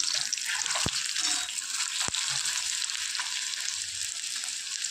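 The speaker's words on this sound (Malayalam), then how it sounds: "ഇപ്പോൾ ഒരു വശം ഫ്രൈ ആയി വന്നിട്ടുണ്ട്." Ripe jackfruit fritters frying in hot oil, a steady bright hiss and crackle of bubbling oil throughout, with a couple of sharp clicks of a utensil against the pan.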